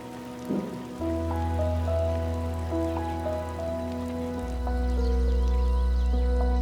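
Steady rain pattering on a surface, with soft sustained musical tones drifting over it throughout.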